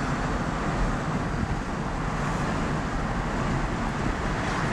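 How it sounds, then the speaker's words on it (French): Smart electric drive car driving along small country roads near Fresnes-sur-Marne, heard as a steady, even rush of road and wind noise with a continuous low hum, with no talking. "avec la Smart, on entend un petit bruit de moteur électrique, hein, un petit sifflement"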